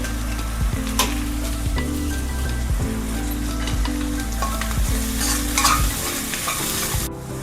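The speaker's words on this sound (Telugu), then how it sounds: "నెక్స్ట్ కట్ చేసుకున్న క్యాబేజ్ వేస్తున్నాను" Chopped cabbage sizzles steadily in a hot pan while a spoon scrapes and stirs it in repeated strokes, frying close up without any talk.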